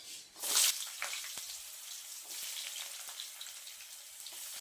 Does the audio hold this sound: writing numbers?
no